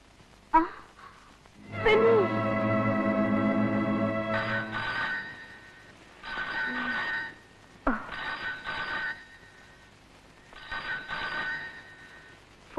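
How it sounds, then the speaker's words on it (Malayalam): Telephone rings in repeated bursts, a tonal ring held for a few seconds, then shorter rings separated by quiet gaps, fairly close and loud, with a faint sigh in between. "ഫോൺ"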